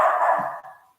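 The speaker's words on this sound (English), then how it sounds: "You can hear that dog barking." A single dog bark rings out close and loud, decaying over about a second with no other sound around it.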